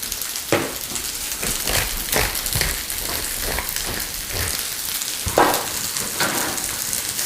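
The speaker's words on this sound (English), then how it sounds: "go ahead and add the green beans. Toss them up." Green beans and onions saute in a hot pan, giving a dense, steady sizzle with scattered crackles and a few louder pops as the food is tossed.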